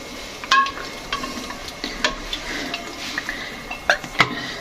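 Onions fry in oil in a pan, a soft steady sizzle broken by scattered sharp pops and spatters, close and moderately loud.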